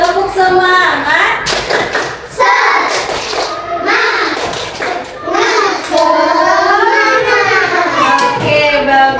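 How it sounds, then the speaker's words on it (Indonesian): A school class performs the 'tepuk semangat' clapping routine, loud rhythmic bursts of hand claps and thumps mixed with children chanting and talking along in a patterned cadence. "Mari kita tepuk semangat dulu supaya segar"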